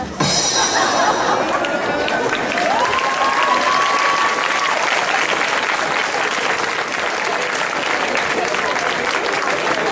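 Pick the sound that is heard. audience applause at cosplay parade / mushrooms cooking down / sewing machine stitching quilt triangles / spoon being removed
audience applause at cosplay parade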